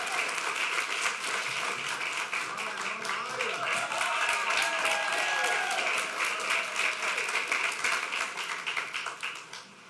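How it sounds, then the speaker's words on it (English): A school meeting audience applauds students standing up front, producing a long, full round of clapping that holds steady for several seconds and then tapers off toward the end. "Let's give a round of applause for everybody up here"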